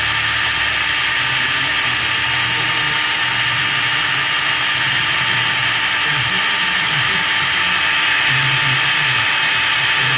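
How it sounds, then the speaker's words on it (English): A power drill bores into a seized EGR bolt on a 6.7 engine, running as one loud, steady high-pitched whine for the full stretch without letup. "Let's go ahead and drill for a minute."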